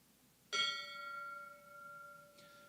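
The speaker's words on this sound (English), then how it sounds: "One such tradition is the sound of the bell." A single fire service bell struck once at a funeral for a fire chief, a clear metallic ring that decays slowly, followed by a faint second tap near the end, with no talking.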